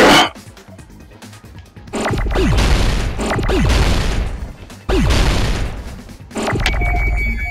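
Grenade explosions in the video game DanganRonpa 2, several loud booming blasts with sharp descending whoosh effects, separated by short quieter gaps.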